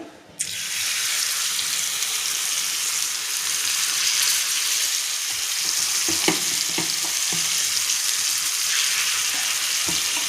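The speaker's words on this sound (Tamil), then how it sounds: "நல்லா எண்ணெயை ஊற்றி ஷாலோ ஃப்ரை 2 பக்கமும் திருப்பி போட்டோன்னா" Marinated fish shallow-frying in oil on a tawa gives a steady, close, full sizzle that holds throughout, with a few soft utensil knocks near the end and no one talking.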